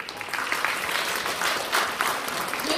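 Sustained crowd applause at a pole sport and aerial acrobatics award ceremony in Arkhangelsk, dense, even clapping that holds throughout, with no voices on top.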